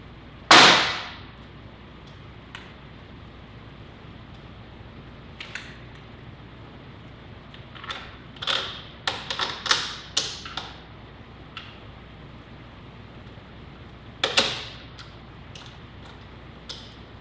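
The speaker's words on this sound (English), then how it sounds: "we're going to go ahead and put the spring on" Metallic clicks and taps while fitting an exhaust canister spring on a Yamaha R6 motorcycle with a full M4 exhaust, a sharp snap at the start, scattered clicks and scrapes midway, and another sharp click near the end.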